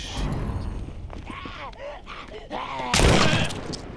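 A gunshot fires for a headshot on a zombie in The Walking Dead: Saints and Sinners VR game, a single sharp loud crack near the end following quieter clattering game sounds.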